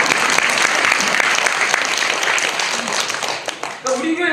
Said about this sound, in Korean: 또 박수 한번 쳐요